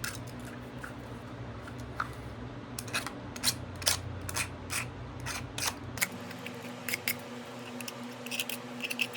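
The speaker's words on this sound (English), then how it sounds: "I typically just take my knife and go through the inside to make sure that there aren't any burrs in the Kydex" A knife blade scraping along the inside edge of a Kydex holster to remove burrs, a close series of short, crisp scratchy strokes in an irregular rhythm over a steady background hum.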